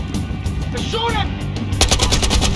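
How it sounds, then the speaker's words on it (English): Automatic gunfire in the Battlefield Hardline video game, rapid bursts crackling steadily over a busy combat soundscape, with a voice briefly heard amid the shooting. "They're shooting!"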